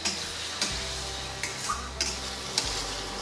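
Biryani masala mixture stirred in a pot, with a soft sizzle under repeated spoon scrapes and knocks against the pot roughly every second, close and clear with no voices.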